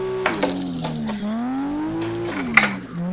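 Toyota Altezza in Assetto Corsa, engine revving through gear changes with rising and falling pitch, a clutch kick and tire squeal, loud and close with no talk.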